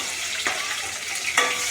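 Tomatoes go into a hot pan for konda kadalai kara kuzhambu, giving a brief, moderately loud hissing fry with two sharper bursts as pieces land.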